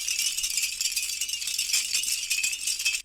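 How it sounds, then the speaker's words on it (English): Metal soda can tabs threaded on a string are shaken steadily, giving a bright, continuous jingling rattle up close that runs without pause and stops abruptly at the end. "this is the actual little metal bit that I keep, and I pass them through a string and I just shake them like that"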